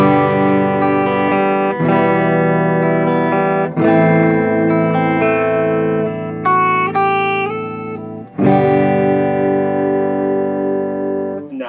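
An electric guitar plays through an Orange Micro Dark amp into a Bugera 112TS cabinet, with sustained, distorted chords ringing out loudly, changing every couple of seconds as different pickup settings are tried, with no talking.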